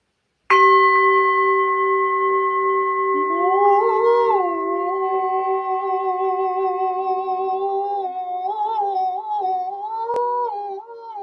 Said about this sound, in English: Yes, we finished the cards, so let's ring the bell.